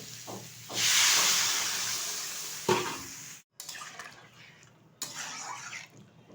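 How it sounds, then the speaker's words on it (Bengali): Water hits a hot pan of bata fish curry with cauliflower, potato and lentil dumplings, giving a loud steaming hiss for about two seconds, then a short clatter and further softer sizzling bursts, close by with no voices. "এখন দিয়ে দেবো পরিমাণ মতো জল"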